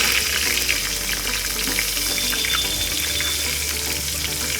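A dense, steady sizzle of curry leaves frying in hot oil for vegetable pulao fills the whole stretch, crackling evenly and close up, with no voices.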